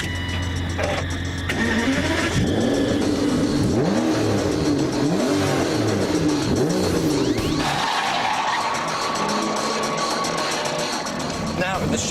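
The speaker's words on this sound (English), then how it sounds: "the sheer sound of that V12 warming up" An Aston Martin DBS V12 engine warms up and revs, loud and close, with rising and falling sweeps over a steady idle that settles into a smoother, quieter running note toward the end.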